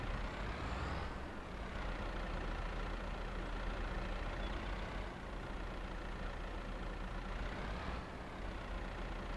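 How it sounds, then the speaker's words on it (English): An old-school John Deere tractor engine in the Farming Simulator 22 game runs at a steady idle, a continuous raspy rumble with faint periodic swells, close and even throughout, with no talking. "Nice raspy little engine from the old school John Deere"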